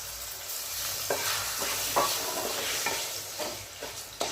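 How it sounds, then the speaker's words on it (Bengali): Close, continuous sizzling of bay leaves, panch phoron, dried red chillies and sugar frying in hot oil, broken by occasional soft scrapes of stirring. "তেজপাতা পাঁচফোড়ন শুকনো লঙ্কা চিনি খুব ভালোভাবে ভাজা হয়ে গেছে"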